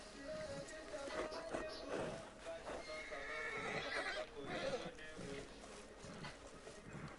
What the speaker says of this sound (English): Cavalo morrendo, tadinho.